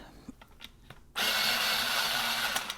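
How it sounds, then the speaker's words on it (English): Electric pencil sharpener grinding a red colored pencil, starting abruptly after a second of quiet and running steadily as a loud, close, continuous whir for the rest of the moment. "So we're going to sharpen that."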